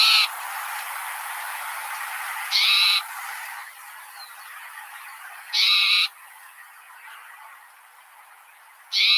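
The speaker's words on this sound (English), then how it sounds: "I'm already hearing the Mew Calls, which let me play that for you guys" Recorded bird mew calls play as three loud, harsh bursts about three seconds apart, each standing out clearly over a steady background hiss, with no talking.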